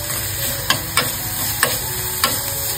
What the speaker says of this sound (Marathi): कांदा, लसूण आणि अद्रक मस्तपैकी सर्व फ्राय करून झालेले आपला व्यवस्थित परतवून घ्यायचंय